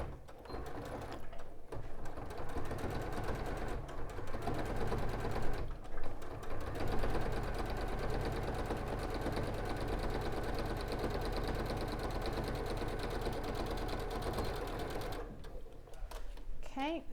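Sewing machine stitching a quarter-inch seam on a bag panel, running steadily and close up with brief pauses, while people talk over it.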